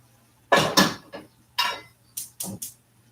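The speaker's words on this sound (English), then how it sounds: "I'm going to pick up an incredibly hot pan, bring it to you, turn off the fire" A hot metal pan from a home kitchen is carried over and set down, producing a series of sharp clanks and knocks, several in quick succession, close and fairly loud over a low steady hum.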